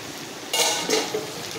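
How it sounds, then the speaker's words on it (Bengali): A pot lid comes off a simmering mutton curry with a short metallic clatter and scrape, followed by a second lighter clink, close up over a faint kitchen background. "আসুন ঢাকাটা খুললে নি"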